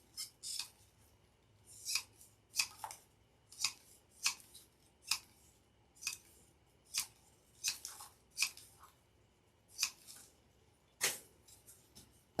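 Scissors snipping floral picks for a fall berry grapevine wreath, a dozen or so sharp, close cuts spaced irregularly, with no talking.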